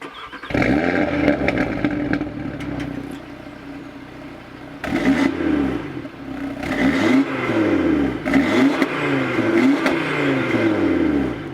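A 2019 Audi RS3 hatchback fitted with the optional performance exhaust, revved repeatedly close by, with loud rising and falling engine blips after an initial steady idle.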